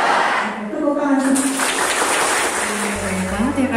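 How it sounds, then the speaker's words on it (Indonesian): Seminar audience claps at a session introducing students to the world of work, a steady broad wash of applause running under overlapping voices throughout. "Tepuk tangan."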